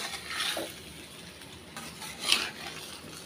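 Spiced taro (arbi) masala being stir-fried in a pan gives a soft, steady sizzle, with a couple of brief scraping stirs from a spoon and no talking.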